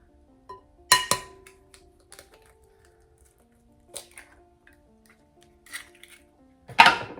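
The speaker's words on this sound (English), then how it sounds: "I also want to add 1 egg, and I don't usually break these on camera" An egg is cracked against a mixing bowl while making gluten-free cinnamon quick bread. A couple of sharp taps come first, then scattered clinks of the bowl and utensils, close and otherwise quiet, with no talking.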